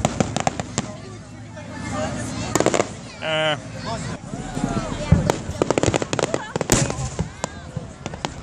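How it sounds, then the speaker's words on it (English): Fireworks go off across the Ohio River at a large public display, heard as distant rumbling booms and scattered crackling pops under nearby people talking. "You can hear the rumble of their fireworks going off across the river."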